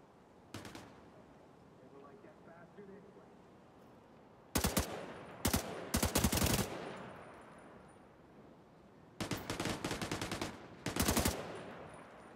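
Automatic gunfire from The Division 2 crackles in three bursts, an early short volley, then louder rapid strings in the middle and near the end, with faint voices underneath between shots.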